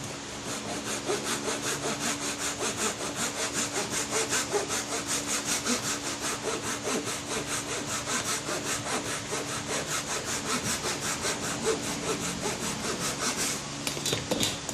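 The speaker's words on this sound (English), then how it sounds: "On something like this where I want to remove a lot of stock, I'll just grab a little handsaw." A small handsaw cuts through poplar wood in a quick, steady back-and-forth rhythm of rasping strokes, close and continuous with no talking.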